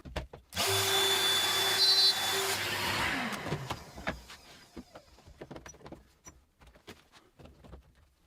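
A Peanut 2 MiniJig guides a domino-style joiner cutting a mortise in a single pass: a loud, steady motor whine with cutter noise that lasts about two and a half seconds, then winds down, followed by faint clicks and handling sounds.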